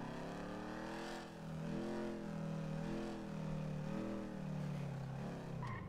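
A car driven in the GTA video game, its engine note rising and falling through several revving swells over a steady drone, moderately quiet and without talk.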